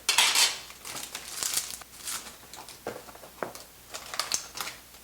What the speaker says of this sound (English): I'm going to go ahead and get our spoon out.